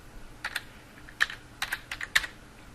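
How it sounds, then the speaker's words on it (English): Keys tapped on a computer keyboard while typing a program name into a search bar: a handful of crisp, separate clicks in small bursts, close and clear against quiet room tone. "you can simply click in the search bar type in Paint"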